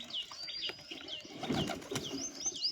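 Pigeons coo softly at close range near a nest with eggs, several soft cooing calls and a few higher chirps over a quiet background, with a brief rustle or wing flutter in the middle.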